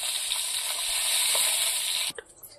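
Bhola river fish frying in hot oil in a kadai, a loud, steady sizzle close up that cuts off abruptly near the end, leaving faint clatter behind.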